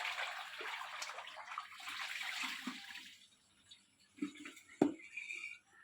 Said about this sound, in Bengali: এই যে আগে জলটা ফেলে নিই